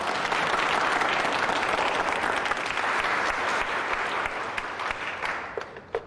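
Audience applause in a Chinese wartime drama scene, a steady sustained clapping from a crowd that holds loud for several seconds and then thins out and tapers off near the end.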